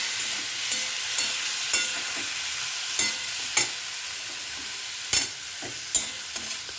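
Garlic and cumin spice paste hissing steadily in a hot pan, with a soft constant sizzle broken by regular scraping clinks of a spoon as it is stirred.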